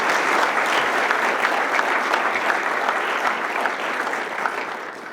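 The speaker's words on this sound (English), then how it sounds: "if we can please give them a round of applause" At a PTA Founder's Day gathering, a roomful of people claps in a sustained, even round of applause that stays full and fairly close, easing off slightly toward the end, with no talking over it.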